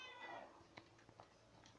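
Faint, short meows from a house cat, several brief calls spaced apart at a distance, with no talk over them.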